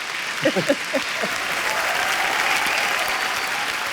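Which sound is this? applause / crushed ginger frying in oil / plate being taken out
applause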